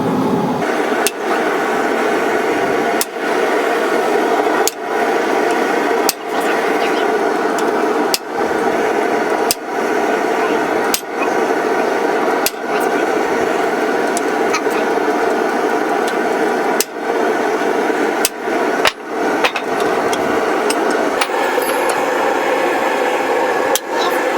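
Steady hammer blows on hot metal while forging a bearded dragon sculpture, with the eyebrow ridges and nose being shaped. The blows ring loud and close in an even rhythm over a constant background hum of machinery.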